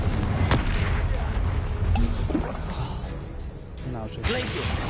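Confringo fire-spell blasts in the video game Hogwarts Legacy burst out as dull booms and whooshes over a dense game soundscape, with someone talking throughout.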